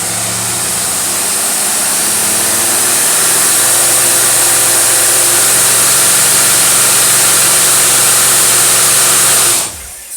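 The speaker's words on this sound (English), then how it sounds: "Now we're going to turn the dyno on." A Motorcraft 4300 carburetor on a crew cab Thunderbird engine runs on a dyno, a loud, steady engine roar holding for about nine seconds before it abruptly cuts off.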